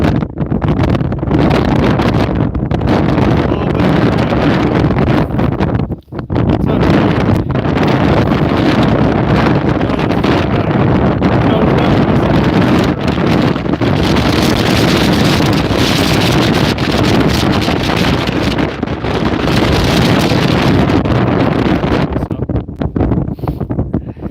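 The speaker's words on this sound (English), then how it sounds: "Windy as fuck though." Strong wind roars without letup through a mountain ravine between high peaks, buffeting the microphone loudly and close for the whole stretch, with only a brief lull partway through.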